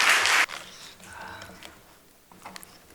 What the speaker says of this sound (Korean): 나오실 때 이런 박수로 우리 환영해 주시길 바랍니다.